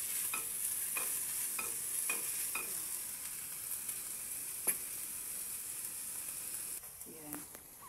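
Onion and egg frying and sizzling in a pan for Chinese-style pancit bihon, with a steady hiss and regular scraping strokes of a utensil stirring, one louder clack near the middle, all close and without talk.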